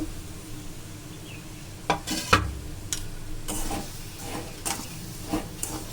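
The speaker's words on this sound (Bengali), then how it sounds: "আমি তেল দিয়ে ভাজছি আপনারা ঘি দিয়েও ভাজতে পারেন" Semolina toasting in oil in a pan, a low steady sizzle broken by several sharp scraping stirs, close by with no talk.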